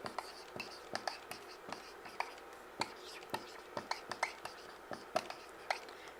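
Handwriting: a pen scratches over paper in short strokes with small taps between words, a steady irregular rhythm heard close against a faint background hiss.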